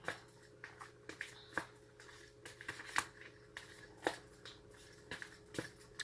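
A deck of playing cards being shuffled, a quiet and fairly close run of repeated riffling and snapping bursts with soft handling between them and no talk over it.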